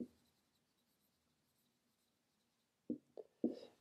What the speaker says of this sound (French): Donc je vais l'écrire ici